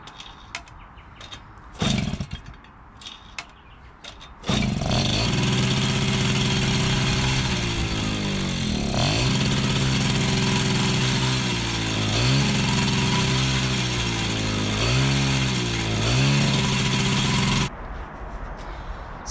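A TVS-Suzuki Eko Vmatic scooter with carburetor problems starts up and runs: a loud, steady, close single-cylinder engine drone that holds for about thirteen seconds with slight wavering in pitch, after some handling noises before it catches.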